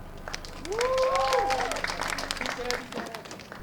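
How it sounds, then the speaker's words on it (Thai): A stand-up comedy crowd at TCDC applauds, the clapping mixed with cheers and voices calling out over it before it eases off. "ขอเสียงปรบมือให้เกรตาหน่อยครับ"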